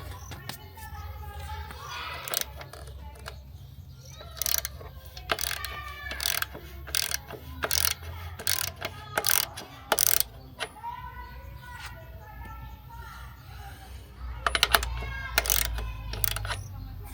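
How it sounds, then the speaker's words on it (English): A ratchet wrench loosens the rear axle bolt on a Honda Transalp 750 motorcycle, giving repeated close clicking bursts in uneven runs, with quiet gaps between them. "Now I have to loosen up the rear bolt."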